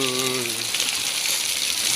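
Heavy typhoon rain pours onto an elevated house roof, a dense, steady broadband hiss throughout, with a brief voice-like tone at the start.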